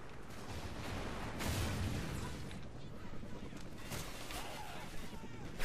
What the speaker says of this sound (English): That's sentry gun.